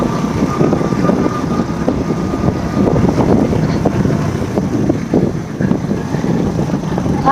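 Strong dust-storm wind buffeting the microphone while riding a bike through a Pakistani village, a loud, continuous low roar with gusty rumbling and no speech.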